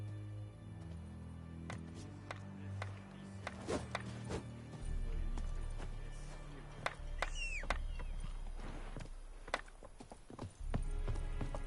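Roach the horse galloping in The Witcher 3: repeated hoof clip-clops close by, with a brief whinny-like call and rustling, under game sounds, and a voice speaks briefly.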